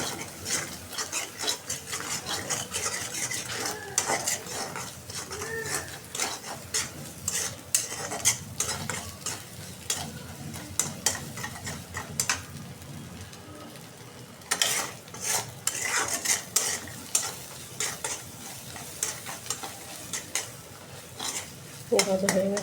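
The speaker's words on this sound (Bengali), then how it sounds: "এই যে মশলা নিয়ে গেছে, ভেজে নিব মশলাটা" Spices frying in oil in a pan while a metal spatula stirs and scrapes repeatedly, a close, continuous sizzle broken by rhythmic clinks and scrapes against the pan.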